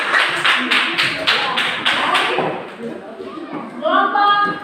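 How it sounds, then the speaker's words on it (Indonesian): A classroom group applauds in Papua, a run of sharp, rhythmic claps that builds and then tapers off, followed by a voice speaking. "Tepuk tangan untuk kelompok 3."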